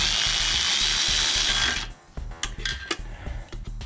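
A ratchet tightening a bolt on a Toro Timecutter SS4200 zero-turn mower, heard after a loud steady machine hum cuts off, leaving a few close mechanical clicks and clatters alone with no talk.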